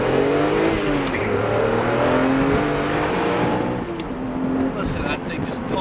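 A BMW Z4 M Roadster's M engine pulls hard in second gear, its droning note climbing steadily in pitch under loud wind and road noise, with a brief dip near the end.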